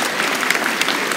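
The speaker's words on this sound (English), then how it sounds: "Please give them a round of applause" A school concert audience applauds for the accompanists and technical crew: dense, brisk clapping from a crowded hall, loud and even across the short burst.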